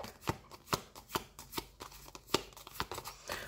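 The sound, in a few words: cards being shuffled for a reading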